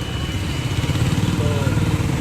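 A Royal Enfield Bullet motorcycle being test-run in a busy Roorkee market street, its engine thumping in a loud, steady low rumble close by, with a voice briefly over it.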